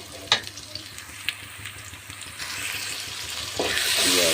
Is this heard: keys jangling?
no